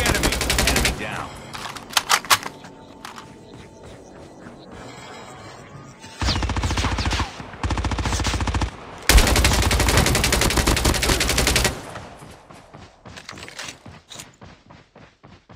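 Rapid automatic gunfire rattles in a shooter video game, coming in long, loud sustained bursts with short pauses between them and scattered single shots.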